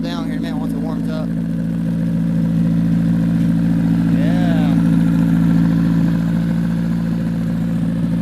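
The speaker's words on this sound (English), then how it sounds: "He'll idle down here in a minute once it warms up." A 2016 demolition derby car with a 5th-gen engine warming up at idle, a loud, steady low rumble with a faint rattling clatter running throughout, while someone talks nearby briefly near the start.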